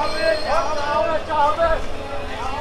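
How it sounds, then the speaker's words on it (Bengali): Ambience at Saidabad railway station in Bangladesh, with steady rumble and a wavering whine from train equipment under someone talking nearby. "এই হচ্ছে সায়দাবাদ রেলওয়ে স্টেশন।"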